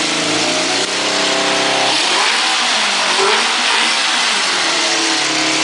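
A repaired Kawasaki KZ650 motorcycle engine runs up close, loud and steady, with a revving rise early on before settling into a smoother, even drone for the rest.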